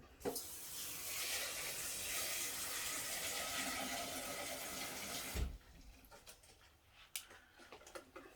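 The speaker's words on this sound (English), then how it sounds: "Let's go fill this with 1 litre and a bit of water." Water from a tap runs into a container for about five seconds as a steady hiss, then cuts off abruptly, leaving quiet kitchen clicks and small knocks, all faint and close.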